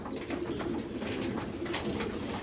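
Racing pigeons coo softly while feeding, a low continuous murmur of several birds nearby, with faint rustling throughout.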